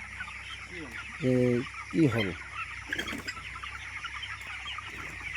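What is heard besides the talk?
broiler chickens clucking on a poultry farm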